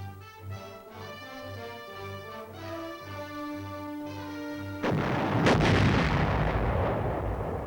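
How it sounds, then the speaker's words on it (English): An artillery gun fires during army training: brass-band music plays at first, then a single loud, close boom erupts into a long, broad rumbling blast that lingers to the end. "Gun loading and firing."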